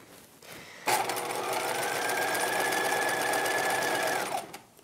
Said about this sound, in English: just stitching along each edge of the channeling